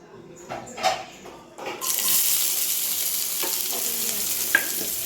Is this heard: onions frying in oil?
yes